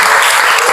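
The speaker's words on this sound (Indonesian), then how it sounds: "Tepuk tangan" A short burst of dense clapping from a classroom group, brisk and close, cut off after under a second.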